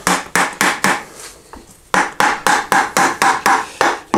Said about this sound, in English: Let's just give her a tap with the hammer.